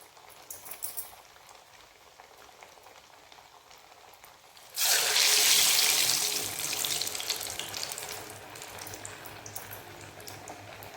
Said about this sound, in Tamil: மீடியம் ஃப்ளேமில் வச்சு கொஞ்சம் நல்லா வந்து சிவப்பாக வந்து வறுத்து எடுத்துக்கலாம்